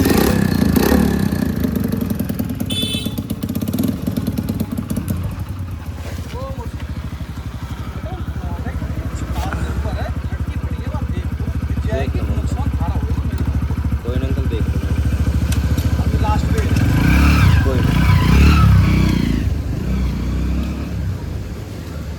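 Hero Splendor motorcycle fitted with an RX100 silencer runs loud and close with a steady engine drone and scattered popping backfire, while voices talk over it throughout.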